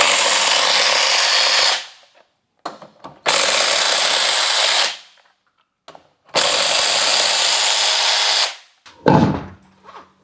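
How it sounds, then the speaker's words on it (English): Electric ratchet spinning lug nuts off a vehicle wheel during a front hub replacement on a Chevrolet Colorado or GMC Canyon, three loud whirring bursts of about two seconds each with brief clicks between, close up. "now we'll just finish taking off all the lug nuts with an electric ratchet"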